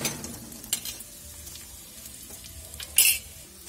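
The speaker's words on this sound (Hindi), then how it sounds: "मेरी वेजिटेबल्स अच्छे से फ्राई हो गई हैं" Vegetables for Singapuri chowmein sizzle and fry steadily in a pan, with a few brief stirring scrapes and a louder clatter near the end.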